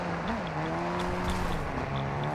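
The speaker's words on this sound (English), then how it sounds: "You can hear that car" Engine drone of a car driving in the video game DMZ, a steady mid-loud rumble with shifting pitch and light tire noise, continuous without talk.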